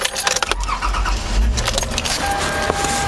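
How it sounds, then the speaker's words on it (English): A car idles outdoors on a cold winter day, its engine a low steady rumble close by, with keys jangling over it. "So I'm out here warming the car up."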